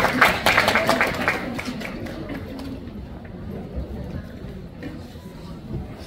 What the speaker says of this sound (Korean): 큰 박수로 의원님을 모시도록 하겠습니다